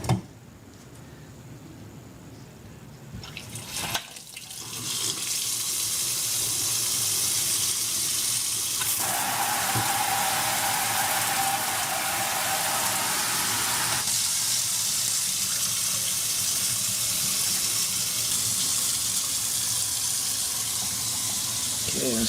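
Water gushing steadily from a newly installed pull-down kitchen faucet into a sink, a loud continuous hiss that starts after a few seconds and holds to the end, with a shift in spray pitch partway through.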